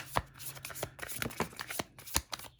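Tarot cards being drawn and shuffled from a deck at a card reading, several crisp, close card flicks and slides in quick succession.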